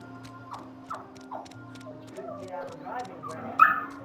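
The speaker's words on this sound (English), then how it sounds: "Poor dog." A dog whimpers and yips in short, plaintive bursts in the video game The Outer Worlds, over steady game ambience and a low hum, with a louder whine near the end.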